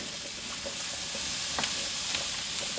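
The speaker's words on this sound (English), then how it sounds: "you're gonna add the onions and peppers. We're gonna cook those down" Onions and peppers cook in a hot pan on a very hot burner, giving a steady broadband sizzle with a few faint stirring clicks, close and even throughout with no talking.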